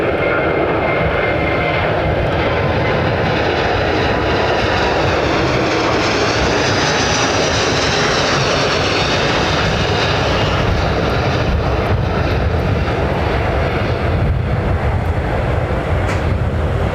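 Aircraft engines at London Heathrow Airport give off a loud, continuous jet roar with a hissing whine that swells and holds across the whole stretch, without any talk.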